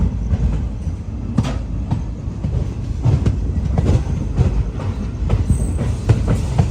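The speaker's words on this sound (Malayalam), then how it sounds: "ട്രെയിൻ ഇപ്പോൾ അടുത്തൊരു റെയിൽവേ സ്റ്റേഷനിലേക്ക് എത്തിക്കൊണ്ടിരിക്കുകയാണ്." The Mussoorie Express rolls toward Doiwala station with a loud, steady rumble and rhythmic clickety-clack of wheels over rail joints, close and continuous with no voices.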